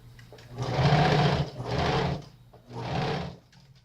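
A sewing machine stitches a child's flared dress in three separate bursts of close, even whirring, with short pauses between runs.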